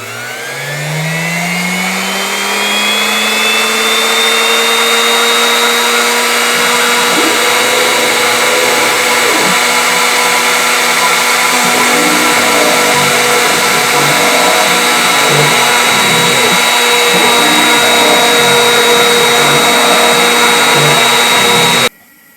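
A power tool spins up and runs with a steady high whine while cutting a wooden Lego block clamped on a jig, loud and close, with small dips in pitch under load before stopping abruptly.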